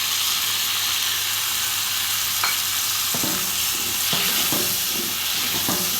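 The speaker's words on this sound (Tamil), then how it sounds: "கத்திரிக்காய் வதங்கவும்" Brinjal sautéing in oil in a pan for kuzhambu, a continuous close sizzle with several sharp scraping stirs and clinks in the second half, no talk.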